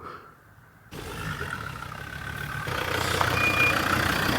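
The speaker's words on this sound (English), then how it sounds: "That is one badass car." A car engine rumbles steadily after a sudden start, a moderate continuous drone that grows slightly louder toward the end in an outdoor setting.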